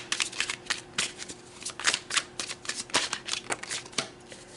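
Tarot cards being shuffled by hand, a run of crisp riffling flutters and soft slaps in an uneven rhythm, close and fairly loud with no talking.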